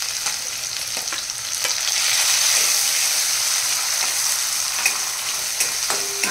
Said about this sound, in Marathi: आपण इथे कांदा टाकून घेत आहोत।